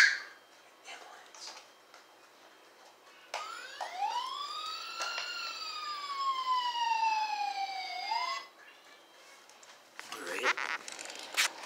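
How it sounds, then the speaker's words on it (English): A wailing ambulance siren sweeps up and down in pitch, loud and fairly close for several seconds, with short bursts of other noise and voices before and after. "So we got an ambulance, huh?"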